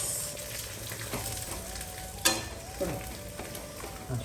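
Dried red chillies fry in a pan with a soft, steady sizzle, broken by a few sharp clinks and taps of a utensil against the pan.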